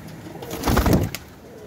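Pair of Indian pigeons kept by a hobbyist, one soft, low cooing call rising and fading over about half a second, close by with quiet surroundings.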